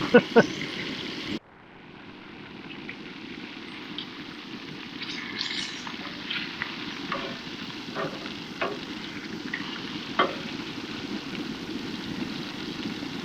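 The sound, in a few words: chicken strips frying in a pan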